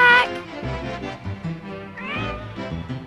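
A house cat meows clearly up close, a drawn-out cry at the start and a rising meow partway through, with music and other sounds underneath.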